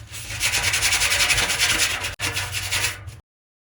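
Rough pipe edges are deburred for cold plunge plumbing, a close, loud, steady abrasive scraping and rubbing that continues with one brief break before cutting off into silence.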